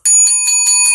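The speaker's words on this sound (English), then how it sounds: "when you hear the sound of the bell, that's going to signify when it starts" A small meditation bell rings in quick repeated strikes, about five bright metallic tings close and loud, each with sustained high overtones that carry through the sequence.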